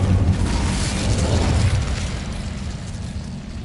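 Incendio fire spell cast in Hogwarts Legacy, a loud, rumbling burst of flame that roars up at once and slowly fades.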